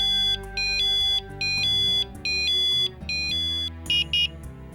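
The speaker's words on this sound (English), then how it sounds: "The system is now monitoring and will alarm if the user's weight is removed from the pad." A fall prevention bed pad alarm beeps loudly in a repeating electronic pattern of sustained tonal bursts with brief gaps, ending with a few quicker, higher chirps.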